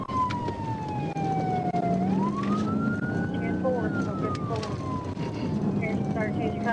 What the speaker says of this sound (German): Der Beamte schaltete die Sirene mehrmals aus, weil er dachte, das Fahrzeug würde anhalten